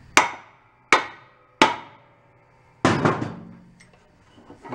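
Hammer striking a seized, locked-up engine part: three sharp metallic whacks at even intervals, then a heavier blow followed by clattering knocks, close and alone.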